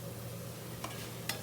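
Onions fry in a pan in a home kitchen, a quiet, steady sizzle under a low hum, broken by two brief scraping stirs near the end; no one speaks.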